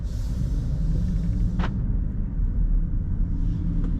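A 2026 Mercedes-Benz CLA on the move, heard from inside the cabin as a steady low road rumble and tyre hum with a brief higher whoosh partway through, with no one talking.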